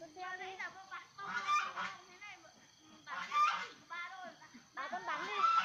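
Duck quacking in repeated nasal bursts, close and fairly loud, with short pauses between the calls.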